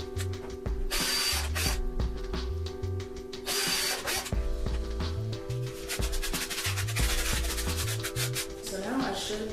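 A power drill pre-drills holes in pallet wood for a dog bed, sounding as repeated close whirring bursts with short pauses between them.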